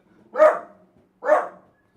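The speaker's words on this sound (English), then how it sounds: "Now my dog's going crazy." A dog gives two loud, close barks about a second apart, each a short sharp burst followed by silence.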